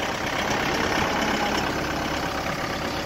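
A tractor's engine runs at a steady, close rumble as the clutch is worked and the machine moves forward with its loader raised, a continuous mid-low drone with no clear breaks.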